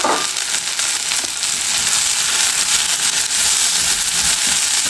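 Garlic, onion, tamarind and dried red chillies sautéing in a pan give a steady, close hiss and sizzle with faint crackles throughout, with no talking.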